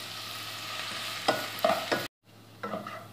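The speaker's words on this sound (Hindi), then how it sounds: "अब इसमें हम डालेंगे दो कटी हुई प्याज, जिसे हम हल्का सा सौते करेंगे" Two chopped onions sauté in hot oil, giving a steady close sizzle broken by several scraping stirs of a spoon in the pan and a brief silent gap before the frying resumes.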